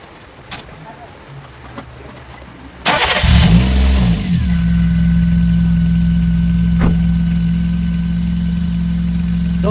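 A car engine cranks and starts during a battery and alternator check. It catches with a loud burst after a few quiet clicks, then settles into a steady, close idle hum.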